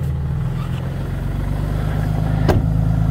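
A Dodge truck's engine runs at a steady high idle on a frosty winter morning after a cold start, a constant low rumble with no talk over it and one brief knock near the end.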